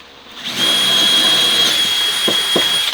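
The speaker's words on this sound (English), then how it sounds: "we're going to drill the first one on the right" A power drill drilling holes in an enclosed trailer whirs steadily with a high whine, running continuously close by, with a couple of short knocks near the end.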